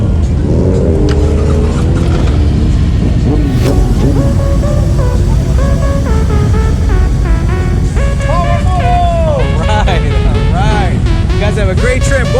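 A motorcycle at a Miami biker gathering revs loudly and pulls away, its engine note climbing through the clip, with people talking over the steady roar.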